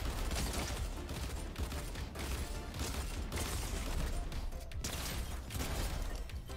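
Dense, continuous gunfire and crashing in a video game battle, loud and close throughout with no pauses or voices.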